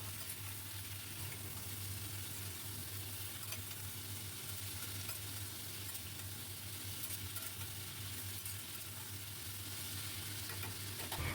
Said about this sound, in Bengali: খুব ভালো করে এবার ভাজতে থাকবো।